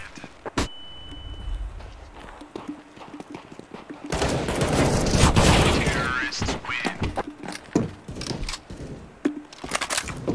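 Gunfire in the video game Counter-Strike: Global Offensive, with scattered loud shots and a dense burst of rapid fire in the middle, mixed with game effects and occasional speech.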